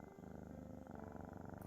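A VRChat avatar's in-game purr, a steady close rhythmic rumble pulsing evenly throughout with no talking.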